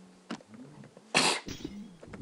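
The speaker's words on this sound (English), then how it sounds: "See how bad sneezing is?" A single abrupt sneeze-like burst from a player character in the Minecraft minigame MinerWare, preceded by a few soft clicks and thumps.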